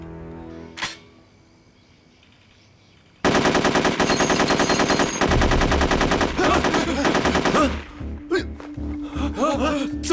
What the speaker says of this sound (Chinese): 哪来的枪声？